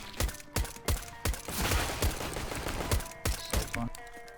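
USP pistol fire in Counter-Strike: Global Offensive: a rapid series of sharp, punchy shots in quick bursts with brief gaps, loud and close, with no talking.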